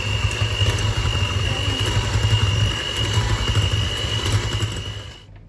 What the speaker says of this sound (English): Right, turn the whisk back on. Turn it back to number 1.